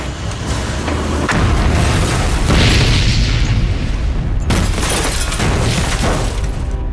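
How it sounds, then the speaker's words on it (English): A coal-fired boiler explosion in an overheated building: a heavy, loud boom with rumbling and bursts of debris, then a second sharp blast and lingering roar. "At 7:45, a huge explosion tore the building apart."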